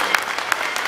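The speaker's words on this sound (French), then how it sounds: "On peut l'applaudir très très fort." Brief applause from a theatre audience at a live stage show, a quick wash of clapping with a few sharper claps standing out.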